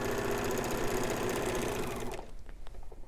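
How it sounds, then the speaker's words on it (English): A serger sewing machine runs loud and steady while overcasting the hem of a pant leg, a dense continuous whir for about two seconds before stopping abruptly, followed by faint handling clicks. "Now that we have serged around the whole pant leg bottom"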